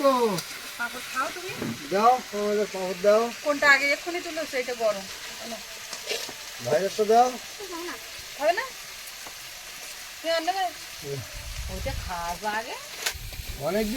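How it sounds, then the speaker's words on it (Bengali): Goat meat sautéing and braising in a pan, a steady low sizzle with occasional stirring scrapes, running close beneath voices talking through most of the stretch. "আরো কিছুক্ষণ এখন কষিয়ে নিতে হবে"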